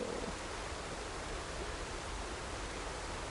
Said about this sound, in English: Okay, we have a waterfall.